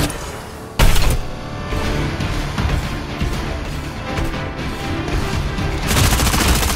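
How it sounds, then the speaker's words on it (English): Gunfire from a mech battle royale squad match in Super Mecha Champions, with a sharp loud blast followed by a rapid run of shots and impacts layered over game effects and music. "Shots heard!"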